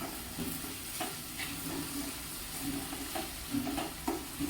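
Okra (bhindi) sautéing in a pan, a soft, steady sizzle with a few light stirring scrapes, quiet and close, no voices.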